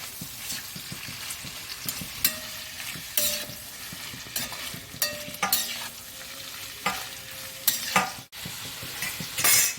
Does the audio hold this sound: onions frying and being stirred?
yes